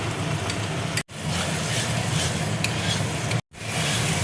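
Spice paste with ground cashew, melon seed and raisin, salt and a little sugar, sizzles and is stirred in a pan for a young jackfruit and prawn curry. It is a steady, close frying hiss with scraping and two brief breaks, and no voices.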